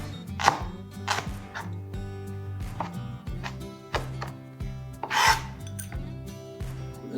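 A knife chops leeks into small pieces on a cutting board, a quick run of sharp, rhythmic taps up close with brief pauses and no talking.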